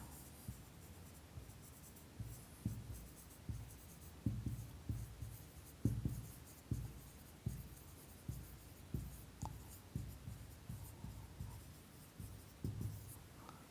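Rhythmic scratchy strokes of writing on a board during a Pythagorean theorem math lesson, a regular series of short close taps and scrapes with no talking.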